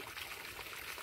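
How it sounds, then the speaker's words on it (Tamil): Irrigation water trickling and flowing steadily through garden soil among vegetable beds, a soft continuous wash at moderate distance with no talk. "தண்ணி அப்படியே போயிட்டுருக்கு"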